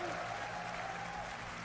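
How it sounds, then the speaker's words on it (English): Audience applause at the Summer Game Fest for Clair Obscure from Sandfall, a steady sustained clapping from a crowd, heard as an even wash of sound for the whole short stretch. "Now let's also applaud Claire Obscure from Sandfall."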